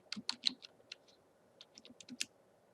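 Someone types a password on a computer keyboard: a quick burst of crisp key clicks, a short pause, then another irregular run of taps, close and quiet.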